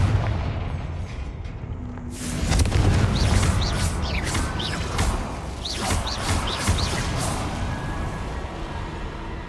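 A fiery Confringo spell explosion in the wizarding game Hogwarts Legacy, a loud booming blast followed by crackling, whooshing magical effects and a few smaller bursts that fade into a low ambient hum.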